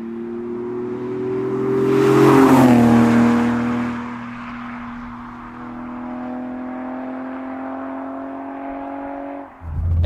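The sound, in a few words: Toyota Supra car driving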